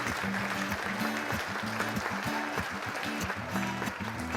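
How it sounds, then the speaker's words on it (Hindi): At a Hindi poetry gathering (kavi sammelan), an audience claps steadily and quietly, the applause sounding somewhat distant throughout. "तालियां।"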